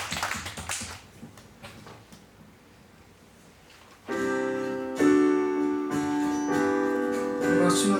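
Worshippers in a church prayer service break into applause after a spoken prompt, a dense wash of many hands clapping that swells as organ-like music enters midway and continues loud with the applause beneath it.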